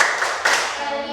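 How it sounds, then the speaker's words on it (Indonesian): Children in a classroom clapping together in a short burst, two or three sharp claps ringing out close and fairly loud with no voices over them. "mari kita melakukan tepuk PPK"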